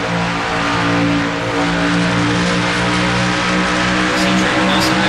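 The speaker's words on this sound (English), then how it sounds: "As Trevor Nelson has slowly been inching towards the back bumper of that 65." Race cars accelerate on track at the Auto Club 400. The engine roar is loud, dense and unbroken, with layered cars droning close by for the whole stretch, and no talk.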